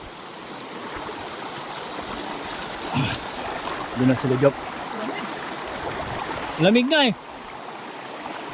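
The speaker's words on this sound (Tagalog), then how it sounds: "tatawid kami ng ilog" A river flows steadily while hikers wade across it on a Mount Otunao traverse trail. The rushing water is a constant wash throughout, with people talking briefly over it.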